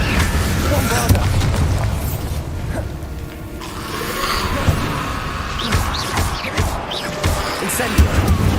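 A Bombarda explosion spell goes off in the Hogwarts Legacy video game with a deep booming blast, followed by rumbling, mechanical clatter and magic effects. Speech is mixed in over the game sound.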